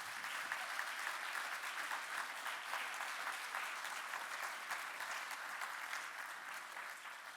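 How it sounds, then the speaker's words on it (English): An audience claps steadily after a live musical performance at an academic symposium: dense, sustained applause with no voices on top, holding at an even level throughout. "So they deserve another round of applause."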